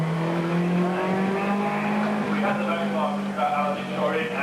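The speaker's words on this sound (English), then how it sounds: "That was the BMW going back out again after a long stop." A BMW touring car at Oulton Park during the 1987 British Touring Car Championship pulls out after a long pit stop, its engine holding a steady droning note that rises gently, heard under continuous commentary.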